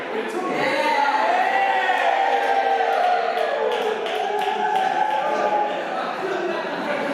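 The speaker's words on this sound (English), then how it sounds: "everybody else cheering" Wedding guests cheer and shout together in a lively, sustained crowd roar, with excited voices and a few scattered claps running throughout.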